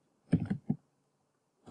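A few quick clicks from a computer keyboard, close and fairly soft: a short burst of three keystrokes, a pause of nearly a second, then one more press.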